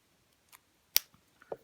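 A few sharp, brief snips of scissors cutting through card, separated by short pauses and heard close up in an otherwise quiet room.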